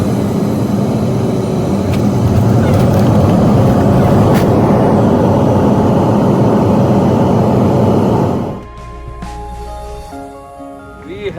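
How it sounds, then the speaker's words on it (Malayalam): Passenger airplane landing at Calicut Airport: a loud, steady cabin roar rumbles for several seconds, then drops off sharply to a quieter hum. "കാലിക്കറ്റ് എയർപോർട്ടിലെ ഫ്ലൈറ്റ് ഇതാ ഇറങ്ങുകയാണ്"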